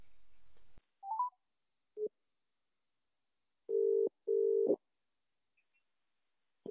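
Phone call being placed, with short keypad-style tones followed by two long, steady ringback tones; the sequence is clear and fairly loud with no talking.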